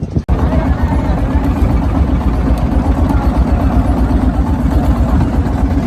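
Motorboat engine on Tanguar Haor, a wetland in Bangladesh, holding a steady, close, rumbling drone through the whole stretch while voices talk faintly underneath.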